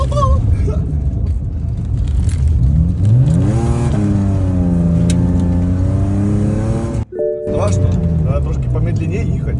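An old BMW E34 sedan drifts on a snowy closed stretch of road, its engine revving and climbing in pitch, holding high, then dropping off briefly before picking up again, loud and close, with voices talking over it.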